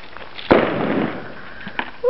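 A homemade bottle bomb bursts with a single sharp, loud bang, followed by a brief noisy decay and a faint later pop.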